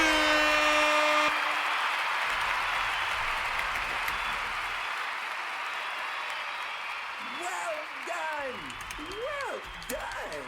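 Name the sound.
clapping applause sound effect on stream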